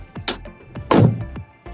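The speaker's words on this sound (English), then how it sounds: "This one has a nice, satisfying thud, where that one sounds like you're closing the door on an old tin shed." A Sprinter camper van door swings shut with a solid, satisfying thud, one heavy close impact after a lighter knock, heard near with no talk.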